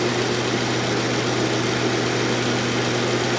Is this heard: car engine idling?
yes